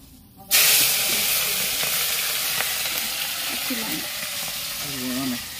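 Fish coated with turmeric and salt bursts into loud, steady frying in hot oil, a dense continuous sizzle that starts abruptly after a brief quiet moment and holds close and strong, with faint voices murmuring underneath.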